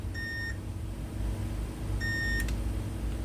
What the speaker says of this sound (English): this side we are getting beep